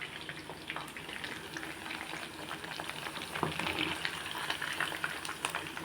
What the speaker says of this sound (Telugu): నూనెలో వేయించుకుంటున్నాను